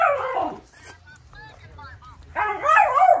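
A dog gives loud, close, yipping barks in short bursts at the start and the end, with quieter whimpering between and people talking over it.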